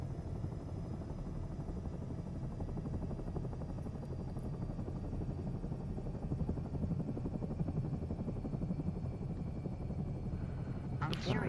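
Helicopter rotor and engine in a flight simulator game, a steady low throbbing drone with rhythmic blade chop that runs unbroken throughout, with a voice speaking at times over it.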